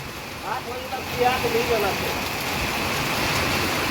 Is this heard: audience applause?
no